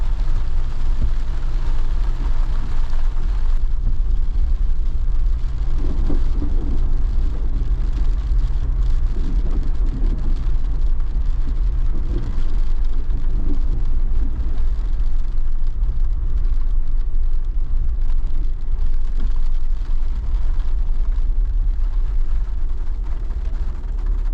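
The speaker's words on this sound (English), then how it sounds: "It's been raining so much," Steady, dense rain from a Florida thunderstorm pours down heavily throughout, a constant loud hiss with a low rumble underneath and no voices.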